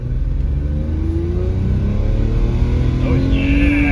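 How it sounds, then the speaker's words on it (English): A BMW E46 325i inline-six at full throttle entering a freeway, loud engine note climbing steadily in pitch inside the cabin, with a shift near the end. "That's full throttle right here."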